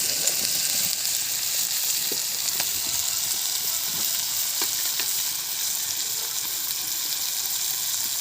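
Local chicken and potatoes frying in a pan give a dense, steady hiss and sizzle, close and continuous, with occasional faint pops and stirring clicks.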